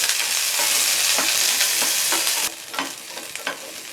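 Small onions sauté in hot oil in a pan for a mutton curry, a loud, steady broadband sizzle with scattered stirring clicks that drops suddenly to a softer, uneven frying hiss partway through.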